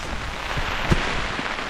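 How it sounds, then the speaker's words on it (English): Rain hisses steadily on a tent during a storm. The patter is dense and close, with a few louder drops and a soft thump near the middle. "Oh, there's the rain back on."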